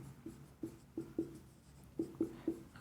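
A pen writing a label on an engineering drawing of an earthenware sewer pipe: a series of short scratchy strokes in uneven bursts, close and faint, with no talk.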